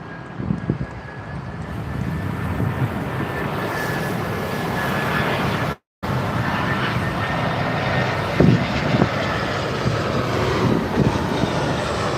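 An Aer Lingus airliner on approach to runway 27R at London Heathrow gives a broad, steady jet roar with a thin high whine, heard from the ground at moderate distance and holding level, with a brief cut midway.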